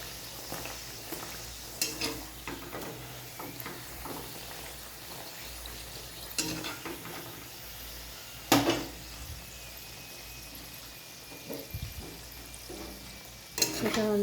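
Food frying in hot oil in a wok, a soft steady sizzle running throughout with occasional sharp clinks and scrapes of a utensil against the pan, close and moderately quiet.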